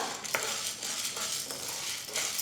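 Chana dal roasting dry in a pan as it is stirred, a continuous close scraping rustle of lentils with faint clinks of the spoon against metal, steady and unbroken with no voices.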